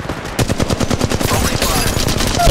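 Rapid automatic gunfire from Apex Legends Mobile on a phone, a steady stream of close, loud shots firing without pause under a game voice announcing actions.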